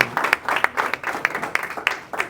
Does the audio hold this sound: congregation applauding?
yes